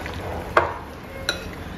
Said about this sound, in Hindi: इसके बाद इसको अच्छे से मिक्स कर लेंगे